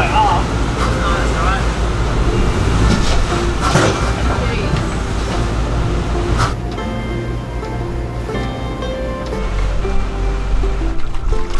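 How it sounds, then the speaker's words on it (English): Rushing water and waves slosh and splash loudly against a hull, with engine-like rumble and people talking underneath. "last wave that like creates a massive splash on the port side of the boat"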